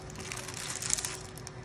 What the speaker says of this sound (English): remove your plastic bag.